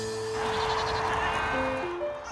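Goats grazing beside a busy freeway on suburban land bleat a few times, their wavering calls clear over a steady wash of background noise.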